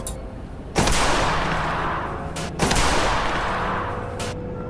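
Two loud, close large-caliber gunshots fired into a ballistic gelatin block, each a sharp broadband blast followed by a decaying rumble, spaced about two seconds apart.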